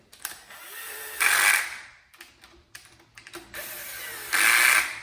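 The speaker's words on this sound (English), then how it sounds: "So I'm going to torque this down" A ratchet wrench tightening bolts on a 1962 Slant Six engine clicks rapidly in bursts, close and loud, with short pauses and a few metallic taps between the strokes.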